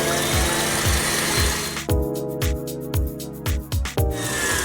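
An electric mixer whips egg whites for a chocolate Christmas crown cake: a loud whirring motor, then rhythmic bursts and knocks as the beaters work the bowl, close by with no talking.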